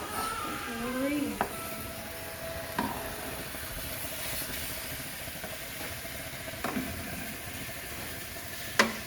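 Steak sizzles steadily in a pan indoors, a soft continuous frying hiss with a few sharp clinks and scrapes, and a brief voice-like tone near the start.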